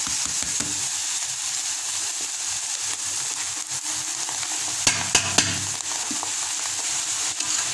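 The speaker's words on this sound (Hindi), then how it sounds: "ये देखें जी, हम अब चावल हिला रहे हैं।" Rice stirred into hot ghee with green cardamom and sugar in a pot for Pakistani mutanjan, a steady close sizzle broken by soft scraping stir strokes and a few sharper clacks near the end.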